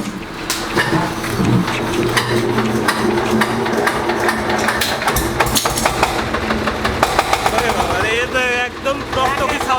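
An old 20 horsepower diesel engine runs with a loud, steady rhythmic chugging and rattling close by, while voices talk over it throughout.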